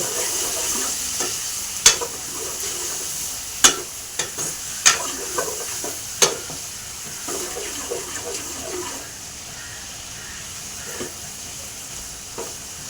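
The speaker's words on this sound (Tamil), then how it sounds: "அதே மாதிரி தக்காளியையும் ஒரு ரெண்டு நிமிஷம் வதக்கிடுங்க" Tomatoes sauté in a pan for a stingray curry, a soft continuous sizzle broken by several sharp spoon clicks and scrapes, the knocks thinning out toward the end.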